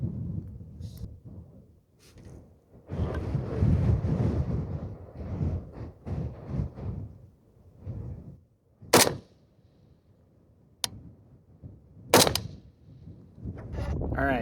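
Two sharp rifle shots ring out from a home-built AK on an outdoor range, each one brief and cracking and set a few seconds apart. Someone talks in the stretch before them, with some wind noise in the background.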